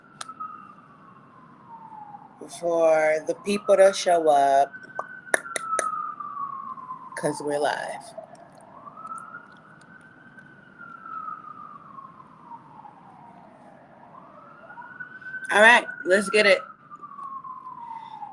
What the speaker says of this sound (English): Excuse the sirens in the back.